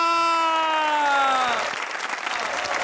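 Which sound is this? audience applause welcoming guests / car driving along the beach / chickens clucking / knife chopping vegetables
audience applause welcoming guests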